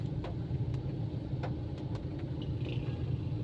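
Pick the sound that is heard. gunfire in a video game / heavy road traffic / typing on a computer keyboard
heavy road traffic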